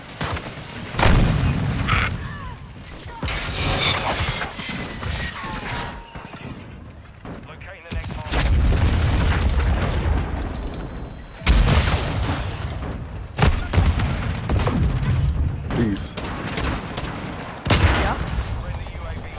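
Video game gunfire: repeated booming shots and bursts of rapid fire, loud and close, in clusters with gaps, while a player talks over the action.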